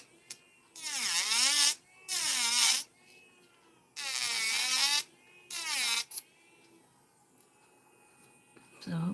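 Electric nail drill with an extra long, tapered, extra coarse bit running at about 21,000 RPM, whining in four sustained bursts with rising and falling pitch, close and fairly loud, with quiet gaps between.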